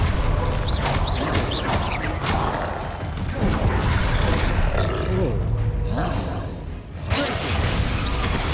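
A troll roars in the video game Hogwarts Legacy, with deep, rough bellows and grunts over combat whooshes and clanks, loud and close throughout, while a person talks over it.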